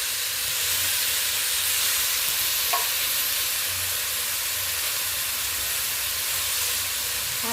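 Chopped green chillies and tomato frying in oil for a Bengali fish curry, a steady loud sizzle and hiss throughout with faint stirring, no voices.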